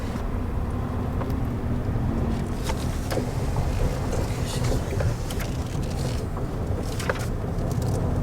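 Strong wind blows at a lakeside by a restaurant, a steady low roar with gusty buffeting across the microphone and scattered brief knocks and clatter throughout.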